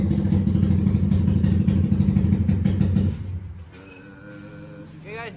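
Motorcycles, including an LC135, being shifted and arranged in a workshop at closing time, with a dense, busy clatter for about three seconds before it thins to a quieter, sparser background with some talk.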